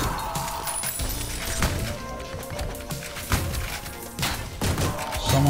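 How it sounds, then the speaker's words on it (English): Shotgun blasts in the first-person shooter Ion Fury, several loud booming shots scattered irregularly through dense game action, with crashes and thuds around them. "Someone's got a shotgun"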